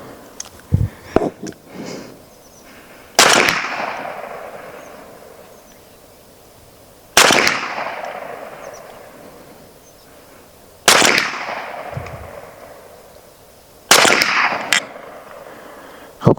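A BINTAC T9 air rifle fires slugs and pellets, giving four sharp, loud cracks at close range, spaced several seconds apart. Each crack has a short ringing decay, and a few softer clicks come before the first shot.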